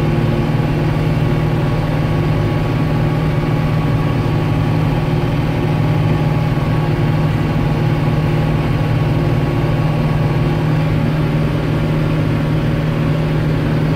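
Renault Celtis 456 RX tractor engine on the move at about 43 km/h, a loud, continuous low diesel drone with a steady hum and constant rumble, unbroken and close throughout.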